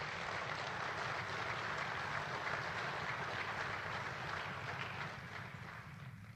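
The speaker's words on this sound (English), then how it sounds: "How about a nice round of applause for each and every one of them?" A broad, steady wash of audience applause at an award ceremony honoring candidates, dense and continuous throughout, tapering slightly toward the end, with no talk over it.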